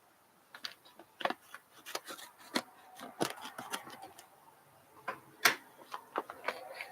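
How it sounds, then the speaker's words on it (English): Scissors snip and crinkle through a coffee bag, producing a scattered series of close, sharp crisp clicks and rustles over several seconds. "And I'm going to cut it open here."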